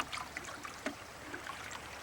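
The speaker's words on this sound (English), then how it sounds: "yet the water is rushing right along" A woodland stream rushes along with a soft, steady wash and faint trickling bubbles, quiet and continuous throughout.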